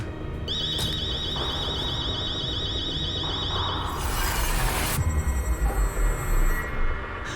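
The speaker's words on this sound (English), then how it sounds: "If I force the lock, it'll trigger the alarm." An alarm goes off in the video game Chernobylite at a power plant after a lock is forced: a steady, loud two-tone electronic warble over a dense rumbling background, then a burst of broadband noise and deep thuds.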